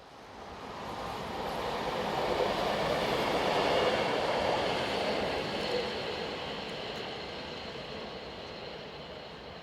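An SBB Class RAe 4/8 number 1021 excursion dining train, refurbished in 2004, passes by with a steady rushing rumble of wheels on rail that swells to a peak midway and slowly fades.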